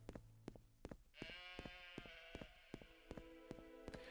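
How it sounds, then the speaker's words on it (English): Goat in the video game Morrowind gives a long wavering bleat that rises and holds for a few seconds, set against a steady run of sharp rhythmic clicks and thumps. "Does anyone know what that goat noise is that I keep hearing?"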